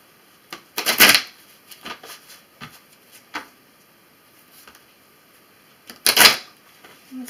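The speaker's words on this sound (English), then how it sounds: "So let's put this aside and start shuffling up here." Tarot cards are shuffled close by in two quick riffling bursts, with scattered lighter card taps and rustles between them.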